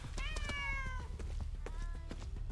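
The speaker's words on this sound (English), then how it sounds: "It will meow when you get close to it" A cat in the video game Ghostwire Tokyo meows twice, a drawn-out close meow followed by a shorter softer one, over a low background hum.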